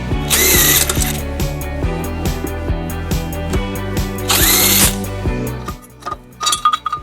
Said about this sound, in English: We'll be using a 14mm socket to remove them.